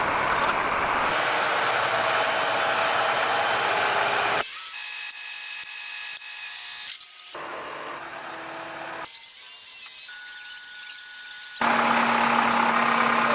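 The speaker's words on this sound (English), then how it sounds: "This 12V71 Detroit KW road train roars like a wild beast unleashed." Heavy diesel engine noise from a Kenworth road train powered by a 12V71 Detroit, loud and broadband with abrupt shifts in character, steady roaring sections broken by quieter passages.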